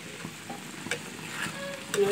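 Okra bhaji cooking in a pan, a soft steady sizzle with a few light taps and scrapes of stirring, close but fairly quiet.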